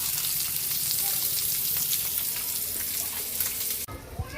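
Oil sizzles and fries steadily in a pan while ginisang sayote is sautéed, a constant close crackle that cuts off abruptly near the end, followed by a couple of soft knocks.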